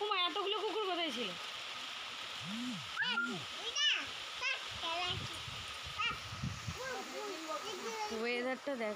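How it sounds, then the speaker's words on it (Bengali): Heavy rain hisses underneath, while voices and dog-like whines and yelps rise and fall over it in short bursts. "প্রচণ্ড জোরে বৃষ্টি এসছে"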